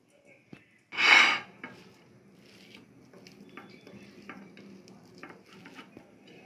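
Mustard oil hits a pan over a medium flame with a brief loud sizzling burst, then settles into a faint, steady crackle with light clinks and scrapes.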